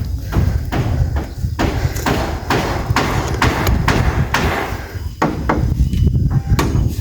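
Wood planks hammered during a house extension: a loud, steady run of sharp, irregular thuds, struck close by over a constant background rumble.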